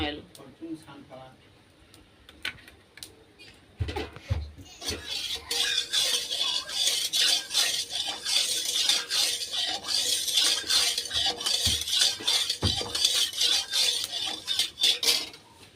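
Soybean chunks frying in refined oil in a pan: a sustained sizzle with scraping and stirring from a utensil against the pan, loud and close, building after a quieter start, with someone talking throughout.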